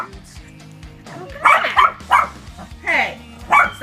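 A small dog barks in a string of sharp, close yaps, about five loud bursts in quick succession after a quieter opening of whimpering sounds.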